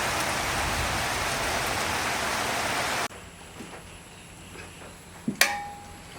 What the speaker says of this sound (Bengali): এর ভিতরে বৃষ্টিও কিন্তু প্রচুর নামছে।